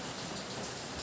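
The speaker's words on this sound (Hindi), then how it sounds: "आज फिर से सुबह से ही बारिश का मौसम किए हुए हैं और बारिश हो भी रहा है" Rain falling on a gloomy, sunless morning: a soft, even hiss that holds steady throughout, fairly quiet, with no voices.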